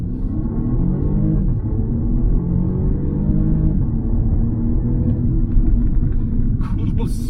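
A 2022 BMW 2 Series Gran Coupé engine accelerates with a deep, rising rumble heard from inside the cabin, while someone talks over it.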